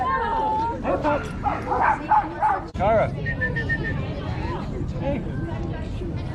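A small dog barks and yips in quick, close bursts at a costume party, with a few whimpers, while people talk and chatter throughout.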